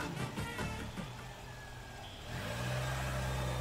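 A car engine starts up and settles into a steady, fairly loud low rumble after a brief stretch of mixed noise, heard alone without talk.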